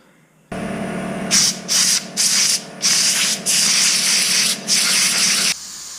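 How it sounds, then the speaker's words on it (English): Sandpaper rubbed by hand over a freshly drilled hole in a dirt bike wheel rim, a series of close, raspy scraping strokes in uneven bursts over a steady background hum, with no talk. "Then I'll run the sandpaper over this new hole and make sure it's all nice and smooth"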